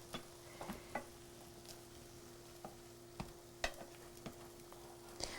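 A beef, tuna and potato sandwich fries in a pan with little oil, giving a soft, faint sizzle broken by occasional light scrapes and taps of a turner, with no talking.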